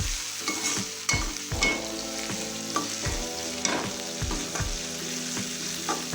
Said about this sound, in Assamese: ইয়াত যেতিয়ালৈকে লাল হৈ নাযায় তেতিয়ালৈকে ফ্ৰাই কৰি থাকিব